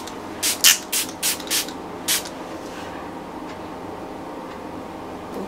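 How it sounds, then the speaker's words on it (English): Smashbox Photo Finish Primer Water sprayed onto a face in a run of about six short, crisp mist spritzes, five close together and one after a brief pause, then quiet room tone. "I'm just gonna spray my face with this."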